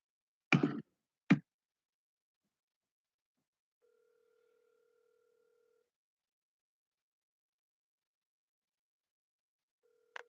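A telephone line clicks twice as the handset is picked up while making a phone call, then a steady single tone sounds for about two seconds in silence and starts again at the very end.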